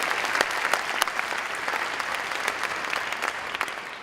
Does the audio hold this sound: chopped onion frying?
no